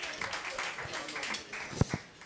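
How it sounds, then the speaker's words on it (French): Applause for a performer at a New Year's Eve live show: scattered, moderately distant clapping from a crowd, fairly soft, with a couple of sharper close claps or thumps near the end. "Applaudissements pour Leroy,"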